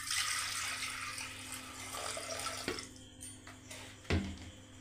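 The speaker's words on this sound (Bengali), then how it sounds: "এই জন্য কুকারের মধ্যে আমি পরিমাণ মতো জল দিলাম।" Water runs steadily from a tap into a pressure cooker in a home kitchen, a continuous close splashing stream that tapers off, followed by a couple of light knocks of the pot.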